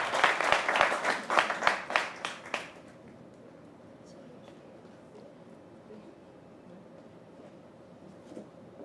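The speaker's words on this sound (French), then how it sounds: "Ça peut s'accompagner d'applaudissements" A group of candidates claps loudly for participants receiving their certificates, with a short burst of strong, distinct claps that stops after about three seconds, leaving low room noise and faint voices.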